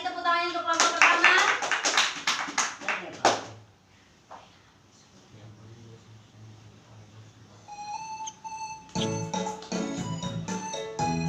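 A classroom group claps for the first presenting group during a microteaching lesson, a dense burst of applause lasting a few seconds before fading, followed by quiet and then singing voices.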